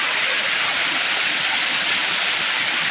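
Flowing water of a river or stream heard outdoors as a loud, constant rushing hiss filling the whole moment, with no clear speech.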